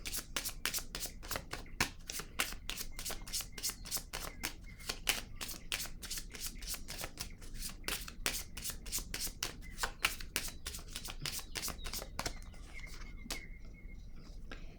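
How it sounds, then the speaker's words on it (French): Cards being handled and laid down during a card reading, a quick steady run of crisp riffling flicks close up, ending in quieter handling, with soft speech underneath. "Je vais déposer une carte pour ici."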